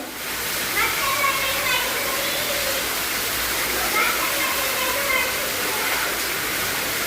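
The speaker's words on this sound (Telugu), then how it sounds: "ఇప్పుడు పడే వర్షానికి అయితే చూడండి వాటర్ ఫాల్ లాగా వస్తున్నాయి మా పైనుండి" Loud, steady rush of heavy rain pouring down like a waterfall in Padmanagar Phase 2, Hyderabad, a dense continuous roar with faint voices underneath.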